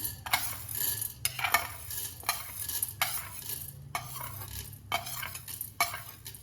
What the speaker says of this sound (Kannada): ಉದ್ದಿನಬೇಳೆ ಎರಡನ್ನ ಸ್ವಲ್ಪ ಕಲರ್ ಚೇಂಜ್ ಆಗೋವರೆಗೆ ಎಣ್ಣೆಯೊಳಗೆ ಫ್ರೈ ಮಾಡ್ತೀನಿ.